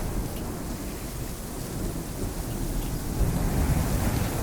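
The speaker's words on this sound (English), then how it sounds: "Thunder roared overhead, accompanied by blinding flashes of lightning that illuminated the chaos." Thunderstorm with heavy rain and rumbling thunder at sea, a steady loud wash of rain under deep rolling thunder that swells louder toward the end, with no voices.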